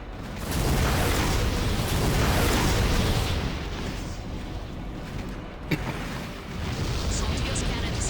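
Loud sustained rumbling blasts from cannon explosions in the mech combat game Armored Core For Answer, a heavy roar for several seconds with a sharp pop near the end, then the rumble swells again.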